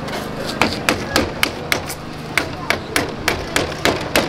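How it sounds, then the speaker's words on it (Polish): Small hammer striking repeatedly at a steady pace, about a dozen sharp close knocks during preparations for a Polish wedding gate, with no talk over the blows. "daj ten mały młotek"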